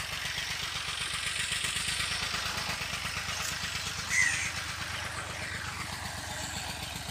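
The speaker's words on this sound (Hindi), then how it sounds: "काका शेर सामने अपना चैंपियन ट्रैक्टर लै के" Continuous low engine chug of a Champion tractor approaching through an orchard, a steady rhythmic diesel putter at moderate loudness with a brief bird call partway through.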